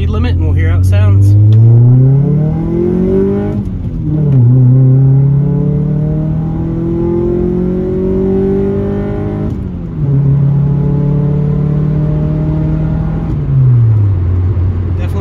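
A 1994-97 Honda Accord with a newly fitted cat-back exhaust accelerates hard, its loud engine note climbing through the revs, easing at each gear change and rising again, sustained and close throughout.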